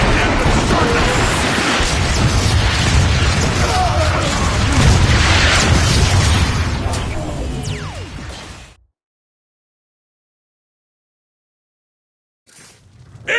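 Warp cannon shells pounding a plaza in the Transformers: Fall of Cybertron video game, loud continuous booming blasts and crashing debris for several seconds before cutting to silence, with a brief burst of sound at the end.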